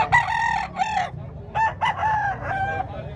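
A rooster crows close and loud at a gamecock expo in Tabunok, Talisay, Cebu, a long drawn-out call broken into several strained bursts, with no talking over it.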